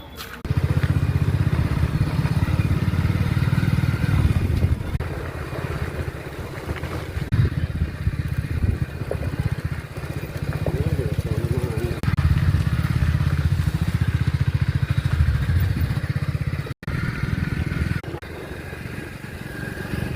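A motorcycle rides along a straight road, its engine a loud, steady low drone with wind rumble running continuously for the whole stretch, no talk on top.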